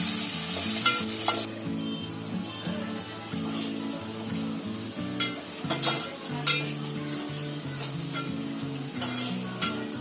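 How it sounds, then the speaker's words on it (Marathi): Chopped onion frying in hot oil in a cooking pot, a steady close sizzle with intermittent stirring scrapes and light clinks, after a brief loud hiss at the start. "तेल टाकलंय. त्याच्यामध्ये पहिला कांदा टाकते."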